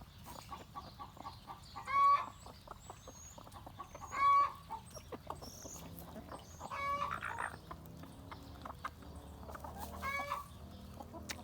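A blue Australorp or blue Plymouth Rock hen clucks softly in a farmyard, with a few louder, sharper calls standing out over quiet background chatter from other fowl.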